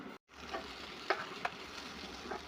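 Onions sautéing in a pan for egg biryani, a faint, steady sizzle broken by a few light clicks of a stirring spoon, after a brief dropout at the start.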